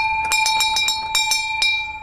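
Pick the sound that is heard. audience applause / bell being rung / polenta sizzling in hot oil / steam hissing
bell being rung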